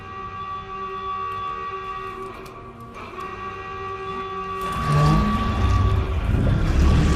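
Air raid sirens drone in the World War II shooter Call of Duty: Vanguard. The sustained, layered tones hold steady, then give way to a rush of louder noise near the end.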